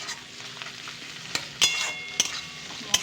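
Chopped garlic fries in a hot pan with a steady close sizzle and crackle, punctuated by a few sharp pops and stirring clinks, and no voices.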